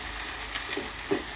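Mustard paste stirred and mixed in a frying pan while cooking mustard hilsa fish, a steady soft sizzle with a few faint scraping strokes, no voices.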